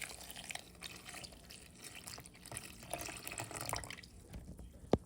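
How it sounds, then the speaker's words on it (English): Cold whole milk pours steadily into a bowl with a soft, close liquid trickle and splash, ending in a sharp clink. "We're gonna add a total of 4 cups of milk, and this is whole milk."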